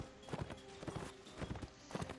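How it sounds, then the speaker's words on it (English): Galloping hooves of a charging horse in the video game Mount and Blade 1866, clustered clip-clop beats in repeating bursts at moderate level over a faint game background. "Horse charge for 12 damage."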